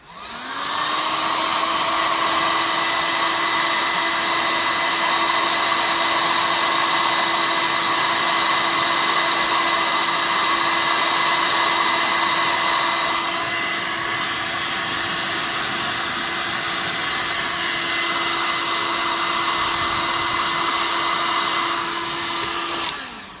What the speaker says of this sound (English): you just get the hot air gun, heat it up, the solder melts in the middle, everything shrinks, makes the connection